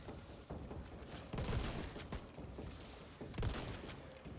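Gunfire from the co-op zombie shooter Back 4 Blood, with two heavier shot bursts standing out over a busy, noisy game mix of reports and mechanical clatter, fairly quiet overall and no talking.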